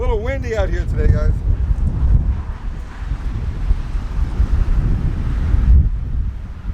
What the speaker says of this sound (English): A little windy out here today, guys.